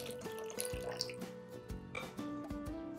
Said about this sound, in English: So let's add in about 1/4 cup of water.